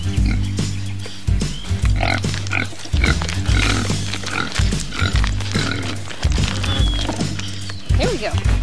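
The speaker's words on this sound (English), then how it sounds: "Yes, mom has food for everyone. All right, come on, piggies." Pigs grunt and oink repeatedly at feeding time on a farm, loud and close in irregular bursts, while a woman calls to them over the noise.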